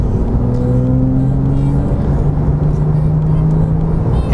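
Porsche 911 C4S in sport mode pulling away on a Southern California canyon road, a steady loud engine drone with rising tonal whine as it accelerates, heard from inside the car.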